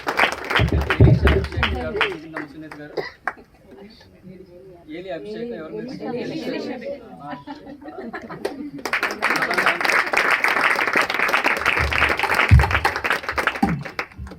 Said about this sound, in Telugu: గట్టిగా చప్పట్లు కొట్టాను